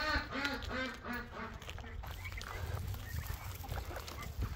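Ducks quacking in a barn full of turkeys, chickens, geese and pigs, a dense run of rapid calls near at first, then a busier, noisier jumble of farmyard sounds continuing throughout.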